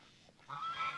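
A protective goose on a pasture farm gives a short, harsh honk that starts halfway through, fairly close, with no talking.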